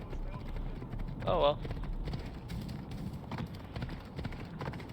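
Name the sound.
horse hooves clip-clopping, from video game Underworld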